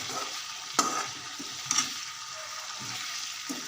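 Duck meat frying in a pan, a low steady sizzle with a few brief utensil clatters as it is stirred, close and fairly quiet with no talking.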